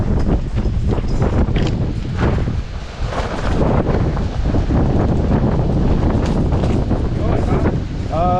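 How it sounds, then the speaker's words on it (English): Strong wind roars and buffets the microphone continuously, a loud rushing rumble that barely lets up. "It's pretty windy."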